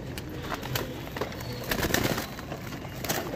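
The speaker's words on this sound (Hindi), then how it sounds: "कबूतर बहुत सारे हैं दोस्तों" Soft, low Madrasi pigeon coos repeat through the clip, with several birds murmuring close by against a quiet background.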